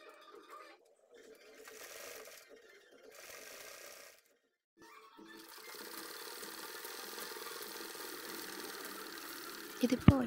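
Sewing machine stitching a fabric pencil pouch, running as a steady mechanical whir for the later half after brief quiet stops and start-up bursts, moderately faint with a couple of sharp clicks at the end.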